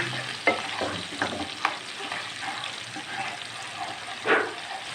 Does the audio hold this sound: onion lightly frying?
yes